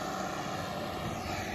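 A farm tractor engine runs steadily at a maize field with muddy ground, giving a broad, constant mechanical roar with no breaks and no talk over it.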